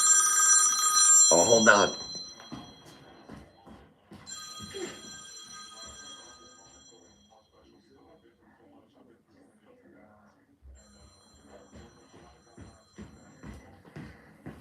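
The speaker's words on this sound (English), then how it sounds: "That was the bat phone." A telephone bell rings loudly in a couple of bursts at the start and again briefly after a pause, then someone talks over faint background noise.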